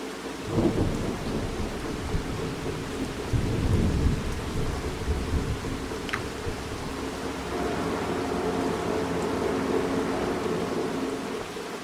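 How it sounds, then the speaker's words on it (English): Steady rain pours in a Farming Simulator 25 game scene while deep rolls of thunder rumble through, with one louder swell early and another midway, the downpour holding a constant hiss throughout. "but it's raining"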